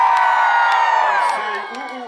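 Crowd screaming and cheering loudly at a coconut tree climbing show, a continuous roar of many voices with whoops that begins to fade toward the end.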